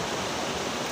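Water rushing among high mountains, a dense, steady hiss of flow with no breaks, moderately near and fairly quiet, with no voices.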